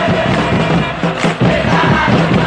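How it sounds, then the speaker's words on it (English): A loud stadium crowd chants and roars continuously in eFootball, with the rhythmic, massed voices of fans in a football match between Thailand and Indonesia filling the space close and unbroken. "Crowd calling for him to shoot."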